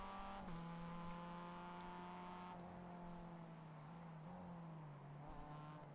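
Simulated MX-5 Cup race cars at Lime Rock Park in iRacing, a steady engine drone with pitch shifts as cars jostle and one passes, faint and continuous without voices.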